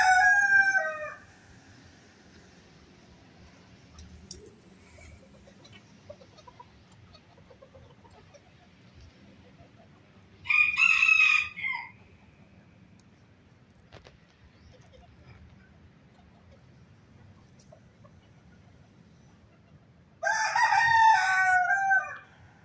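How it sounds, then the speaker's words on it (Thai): A cocoa-colored Thai native bantam rooster crows three times, about ten seconds apart. Each crow is loud and close over a low steady background hum. "เป็นไก่สีบานไทยแท้ครับเป็นไก่พื้นเมืองของไทยครับ"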